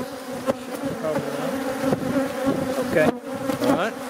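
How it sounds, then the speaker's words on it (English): Honey bees buzzing from an opened beehive during a hive inspection, a steady close dense hum with individual bees whining past the microphone, no talk. "we've got the bees coming out now"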